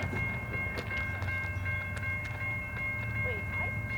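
CSX freight train with the Weight of the World locomotive passing a busy crossing in Muncie, Indiana, a steady rumble of rolling wagons with faint rail clicks and squeals, continuous and moderately near.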